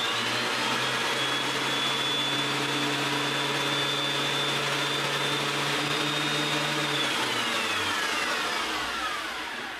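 A woodworking machine fitted with a new helical cutter head runs with no load, giving a loud, steady whine and hum for about seven seconds before spinning down and fading toward the end.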